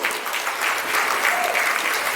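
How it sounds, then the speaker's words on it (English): Wedding reception guests applaud steadily, a dense, even clapping that fills the room throughout with no voices rising above it. "Let's give them a round of applause."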